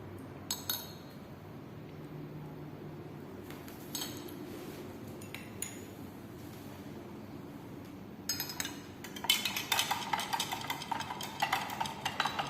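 Ammonia being added to a solution in laboratory glassware, with a few light glass clinks and taps early on, then a busier run of clinking and stirring toward the end over a quiet background.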